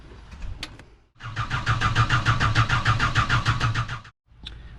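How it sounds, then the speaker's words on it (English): Cummins diesel engine in a Tahoe cranks over for about three seconds with a steady, rapid starter rhythm and no catch, loud and close, with brief bursts of shop noise before and after. "we're going to crank the engine over a little bit and see if we can purge some air out of the system"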